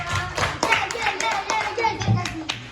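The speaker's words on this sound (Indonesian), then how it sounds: "beri tepuk tangannya buat kelompok 2." A classroom of primary pupils claps for a student group after its presentation on the water cycle: a burst of dense, scattered hand claps of moderate loudness, with some faint children's voices mixed in.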